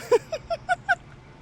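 Ducks calling nearby, five quick honking quacks in an even rhythm over a low background hum.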